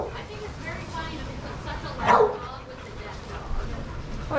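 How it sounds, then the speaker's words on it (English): Loud dog at a dog daycare, barks and yips rising over people talking, with one prominent bark near the middle. "it's such a loud dog"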